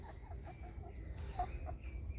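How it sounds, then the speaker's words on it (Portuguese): A chicken clucks softly in short, repeated notes against a quiet outdoor background hum. "Cadê a galinha?"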